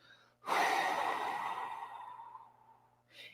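A long, slow exhale at a guided breathing session, one broad breathy rush that swells and fades over about two seconds, then a short breath at the end.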